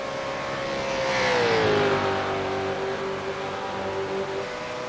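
A KFC Mustang V8 race car in a veterans' series race roars past, its loud engine note rising then dropping in pitch as it passes close and fades into a steady drone.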